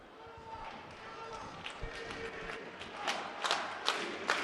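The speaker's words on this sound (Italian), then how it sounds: "si fanno sentire i tifosi di casa" Home crowd at an Italian basketball game between Crabs Rimini and GSA Udine roars and cheers as the teams come out of a timeout, building in rhythmic bursts under a commentator's voice.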